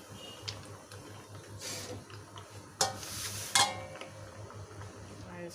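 Gulab jamun balls fry a few at a time in hot oil, giving a soft, steady sizzle over a low hum. A couple of brief clinks of a utensil stand out in the middle, and no one speaks.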